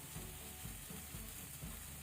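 Spiced masala sizzling gently in a pan over a low flame, a soft, steady frying hiss with faint stirring scrapes, quiet and continuous with no talking.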